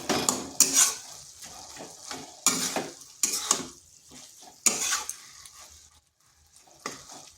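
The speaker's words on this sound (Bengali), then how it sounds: "একটু খুন্তি দিয়ে এইভাবে করে দিচ্ছি" A spatula scrapes and stirs cabbage in a pan for a vegetarian dish, with clattering metal-on-pan strokes in irregular bursts under a soft sizzle, close and fairly quiet, with no voices.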